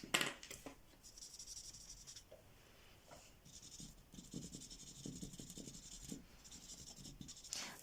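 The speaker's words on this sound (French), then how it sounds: "je prends un feutre noir" A black felt-tip marker scribbles across paper for scrapbooking, giving a steady, soft scratchy rubbing that continues for several seconds with short strokes and brief pauses, close and fairly quiet.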